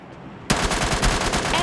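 Gunfire in the mobile game PUBG Mobile Lite: after a brief quiet moment, a loud, rapid burst of automatic shots rattles on without pause.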